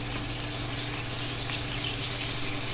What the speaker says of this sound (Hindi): और इसी बॉल में पानी डालूंगी मैं